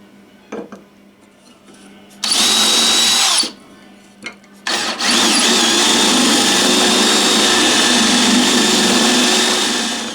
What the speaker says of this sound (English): I'm going to use a 1/8 bit to drill our little pilot hole